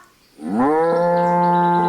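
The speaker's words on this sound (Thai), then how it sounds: "ตอนนี้มีลุงวัวกำลังกินหญ้าอยู่" A cow grazing in a wide grass field gives a long, loud moo that starts low and holds steady for over a second, close by with no talking.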